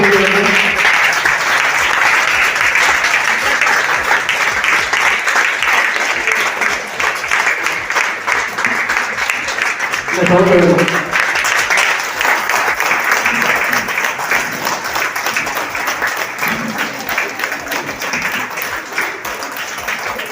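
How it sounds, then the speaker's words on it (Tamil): Sustained applause from a crowd at an award ceremony in Madurai, steady and full for about twenty seconds with a brief swell midway and a slight fade toward the end. "மிகப்பெரிய ஒரு பாராட்டு"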